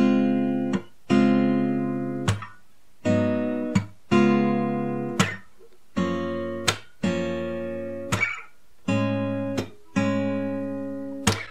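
On an acoustic instrument, the chord progression from a song is played as a slow sequence of about ten ringing chords, each struck cleanly and left to decay before the next, with no voice.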